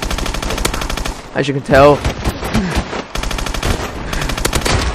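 EM1 energy weapon fire in Call of Duty: Advanced Warfare crackles in rapid, continuous bursts, loud and close, broken by a short pause while someone talks over the game sounds.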